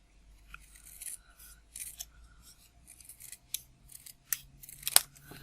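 Scissors snip through a piece of stamped card for handmade card crafting. Several short, close cutting bursts come in quick irregular succession, with soft paper rustling in a quiet room.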